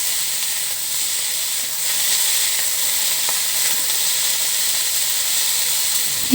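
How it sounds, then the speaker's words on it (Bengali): Boiled potatoes frying in a pan in a home kitchen, a steady soft sizzle and hiss running throughout with faint stirring scrapes, fairly close and unbroken. "সিদ্ধ আলুগুলোকে দিয়ে দেওয়া হচ্ছে। এখন নেড়ে চেড়ে কিছুক্ষণ ভাজতে হবে।"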